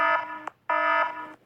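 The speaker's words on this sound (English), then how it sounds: "Intruder alarm." An intruder alarm siren blares in two loud, steady electronic bursts with a short gap between them, harsh buzzing tones sounding alone.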